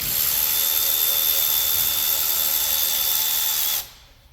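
A power tool, likely an impact gun or drill, removes a 10 mm bolt from a bracket on a blown GM Ecotec engine, a loud continuous high-pitched whir that cuts off abruptly near the end.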